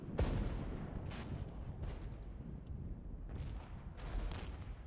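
Artillery in the wargame Regiments fires as a string of distant, muffled booms at irregular intervals over a constant low battlefield rumble.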